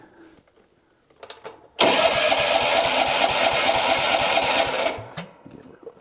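A lawn mower engine fitted with a cheap Chinese knockoff carburetor starts up loud and close, running with a rough, rapid putter for about three seconds before dying down, with a brief word spoken just before.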